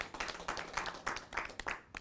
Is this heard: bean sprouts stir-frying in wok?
no